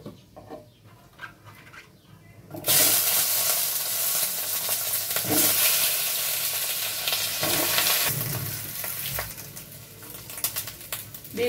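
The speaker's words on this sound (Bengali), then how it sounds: "প্রথমে বেগুনগুলো ভেজে তুলব" Eggplant pieces hit hot oil in a wok and burst into a loud, steady sizzle that carries on alone. Softer stirring scrapes come through before it starts.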